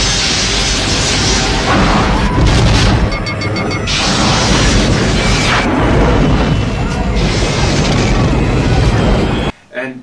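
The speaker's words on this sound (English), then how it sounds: "Lock phasers on target." A Star Trek space battle fills the scene with loud phaser fire and booming explosions, dense overlapping blasts and rumbles running almost without pause before a sudden drop near the end, with voices heard briefly among them.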